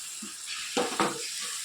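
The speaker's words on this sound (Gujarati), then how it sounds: "હલાવી દઈએ" A spiced mango mixture with coriander-cumin powder, garam masala and salt is stirred in a pan, giving a soft sizzle with two brief scraping strokes of the spoon; no one speaks.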